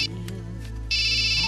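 A mobile phone ringtone sounds in a Telugu comedy film scene: a soft tone briefly, then a loud, steady electronic ring that takes over for the second half.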